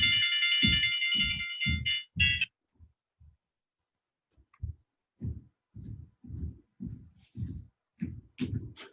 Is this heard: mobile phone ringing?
yes